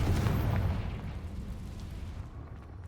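A Confringo blasting spell in Hogwarts Legacy goes off as a loud, booming video-game explosion, with a heavy low rumble that slowly fades over a few seconds, with no voices.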